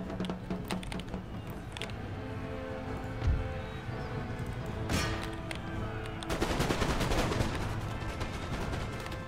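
Musket volleys in Empire Total War crackle through dense game battle noise, with repeated sharp bursts and a heavier rattle of massed fire building toward the end.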